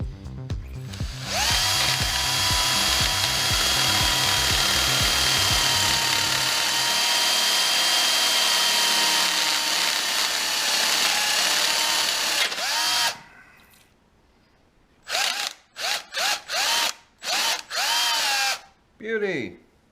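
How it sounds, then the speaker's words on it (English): A loud power drill grinds steadily through metal on a 360 Mopar small-block engine for about thirteen seconds, then stops; a few short bursts of speech follow. "it'll be good once we drill it right through"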